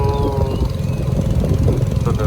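A boat engine drones steadily with a low rumbling chug and continuous hum, loud and close, while people talk over it.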